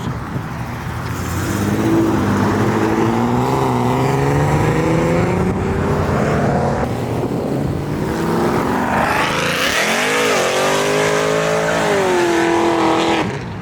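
Supercharged V6 Mercedes C32 AMG accelerating hard on a cold road, a loud close engine climbing through the gears with rising pitch, one shift and then another long pull, no voices.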